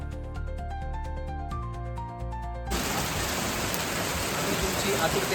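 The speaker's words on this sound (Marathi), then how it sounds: "पावसाने जोर धरला होता" A melodic tune plays for a few seconds, then cuts to a dense, steady roar of heavy monsoon rain pouring down in Mumbai.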